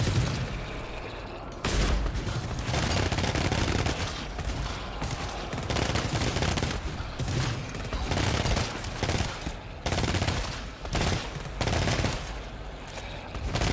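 Rapid gunfire from a Hell Revolver and an auto pistol in the co-op shooter GTFO, loud dense volleys of shots and impacts continuing almost without pause, with brief lulls between bursts.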